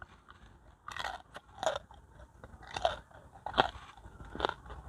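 Crunchy bites into crispy deep-fried pork knuckle skin at an agricultural fair in Sriracha, Thailand, giving four or five loud close crackling crunches spaced about a second apart with chewing between, no talking.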